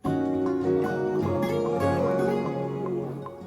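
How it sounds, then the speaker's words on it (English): An acoustic guitar plays a short melodic phrase with ringing notes, close and clear, with no voices. "I thought it'd be cool to play on the acoustic"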